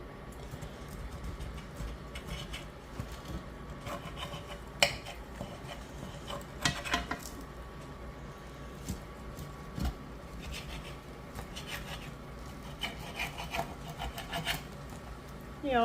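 A knife cuts a sweet potato crusted spinach frittata into four slices, giving scraping, rasping strokes against the crust and pan with occasional sharp clinks of metal on dish.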